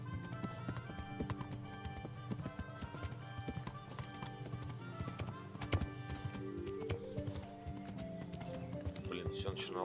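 Rhythmic clip-clop of a horse's galloping hooves in the video game Kingdom Come: Deliverance keeps going under game music and background tones, steady and moderately loud.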